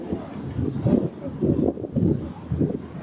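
Cold wind gusting outdoors while walking in St Petersburg, buffeting the microphone in loud, low rumbling bursts that rise and fall unevenly throughout.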